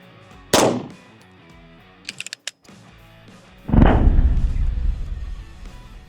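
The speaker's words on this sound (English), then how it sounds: "Now for supersonic 9mm, we're going to be using my Staccato XC." Supersonic 9mm rounds fired from a Staccato XC handgun, with two sharp, loud gunshots a few seconds apart. Each shot has a long echoing decay, and faint clicks of handling come between them.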